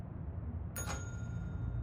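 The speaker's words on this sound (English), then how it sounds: "let's see what happens if we ring the bell" A single bell struck in the video game Control, a bright metallic ring that starts sharply and fades over about a second, sounding fairly near above a steady low room hum.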